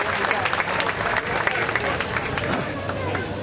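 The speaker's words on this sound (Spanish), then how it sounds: "Y también un fuerte aplauso, por favor" A crowd claps continuously at a bicentennial and centennial ceremony, dense and even, with faint voices mixed into the applause.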